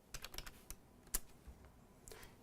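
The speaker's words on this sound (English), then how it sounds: "I'm going to have to type dir." Short run of keystrokes on a computer keyboard, a quick cluster of clicks followed by a pause and a single sharper tap, then a few trailing presses, close and fairly quiet with no talk.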